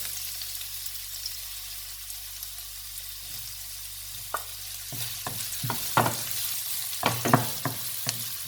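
Tofu and ginger are stir-fried in a pan, a steady soft sizzle that grows busier as a series of sharp clanks and scrapes from the spatula against the pan come in irregularly, close and fairly quiet.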